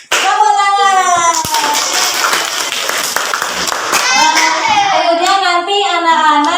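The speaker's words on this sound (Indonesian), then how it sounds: "Tepuk tangan." Children clap their hands in a classroom, a loud, dense burst of clapping lasting several seconds with young voices talking and calling over it throughout.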